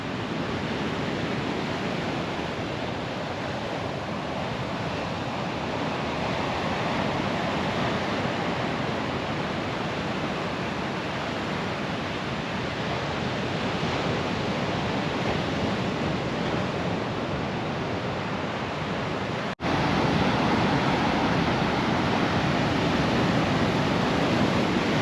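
Ocean surf crashes steadily at Padero Beach along the Pan-American Highway, a loud continuous roar of breaking waves with wind, swelling slightly louder near the end and no voices.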